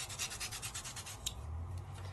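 A colored pencil rubbed quickly back and forth on sandpaper, giving a rapid, rhythmic scratchy rasp close up, with a brief pause and then a duller scraping stroke at the end.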